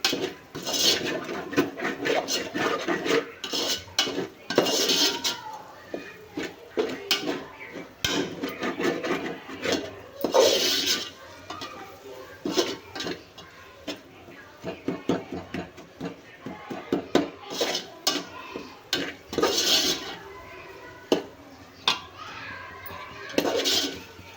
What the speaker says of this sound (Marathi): आता हे पण मसाले आपण छान तेलामध्ये भाजून घेऊया